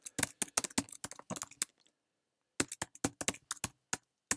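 Java code typed on a computer keyboard: crisp, close key clicks in two quick bursts separated by a second of silence, loud against an otherwise quiet room.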